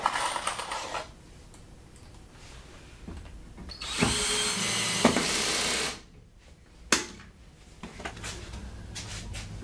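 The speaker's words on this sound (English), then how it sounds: "I'm using a number 8 full thread stainless steel wood screw." A power drill drives a number 8 full-thread stainless steel wood screw into wood for a barrel chair, a steady whirring burst of about two seconds, close and fairly loud, with quieter handling noises before and after.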